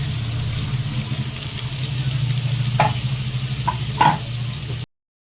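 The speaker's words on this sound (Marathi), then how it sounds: "हे जे दोन कांदे आहेत ते कट करून घेतले आणि भाजायला टाकले" Two chopped onions sizzling in a pan over the stove, a steady frying hiss with a low hum, a couple of short clinks or stirs near the end before it cuts to silence.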